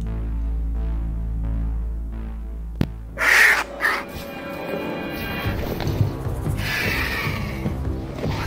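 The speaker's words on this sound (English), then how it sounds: "let me shoot a cockatrice at you" Cockatrice creature from a fantasy sound pack, a sudden sharp crack followed by a shrill, squawking bird-like screech and a rough throbbing growl over a low droning hum.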